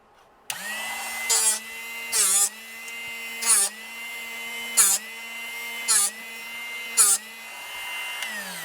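A Drill Doctor drill bit sharpener whirs steadily up close, with six brief louder grinding bursts at regular intervals as the bit is sharpened, no talking over it.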